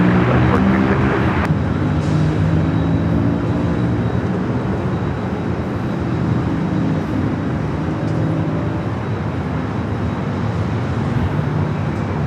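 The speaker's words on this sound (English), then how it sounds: "up next is that ATR coming in from Tijuana, the FedEx feeder" An ATR turboprop flying the FedEx feeder route from Tijuana roars steadily at San Diego airport, a loud, continuous broadband engine rumble with a faint whine that stays strong throughout.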